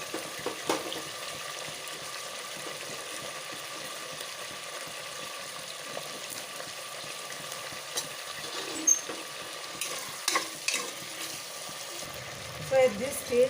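Chopped ivy gourd (tendli) fries in a pan, a soft, even sizzle with occasional light clinks and stirring sounds, fairly quiet throughout.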